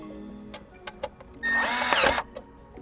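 A cordless power drill loosens the nut on a Toyota battery's negative terminal, a short whirring burst under a second long, close by, framed by a few faint clicks and taps.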